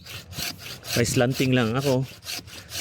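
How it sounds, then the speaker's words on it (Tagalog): A pruning saw cuts through a cacao tree branch in rhythmic rasping strokes, close and clear, while someone speaks briefly partway through. "Gamit tayo ng pruning saw or chainsaw."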